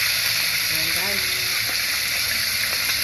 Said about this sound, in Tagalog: Prito-prito para may ulam.